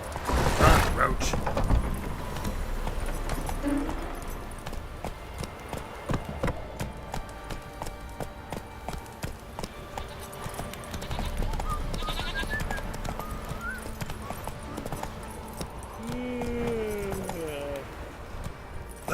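Hoofbeats of Roach, a horse in The Witcher 3 video game, clip-clopping in steady gallop rhythm beneath game sounds and a voice, with loud rumbling at the start and a few bleat-like calls later.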